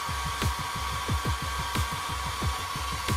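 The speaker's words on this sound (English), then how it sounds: "Use hair dryer to quickly get rid of the fluid." A hair dryer blows continuously across a plastic model kit to dry off liquid, a steady close whirring hum with repeated faint clicking pulses underneath.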